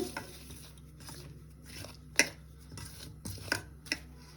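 Banana flower batter with a little sugar is mixed by hand in a bowl, making quiet, soft squelching strokes with a few faint clicks against the bowl.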